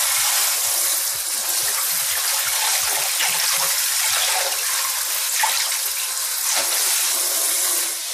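Cool running water gushes and splashes steadily as white laundry is rinsed under a tap, with no voices.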